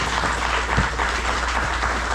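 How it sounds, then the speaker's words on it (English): Steady applause from a theater audience at a memorial event, a dense wash of clapping that holds evenly throughout without voices on top. "Everybody give Kate a round of applause."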